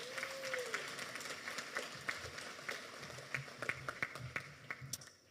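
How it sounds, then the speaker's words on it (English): A round of applause for faculty and staff at a medical school white coat ceremony, a moderately distant crowd clapping unevenly with scattered louder claps. A brief vocal or whistling tone rises near the start. "Let's give a round of applause to the faculty and staff"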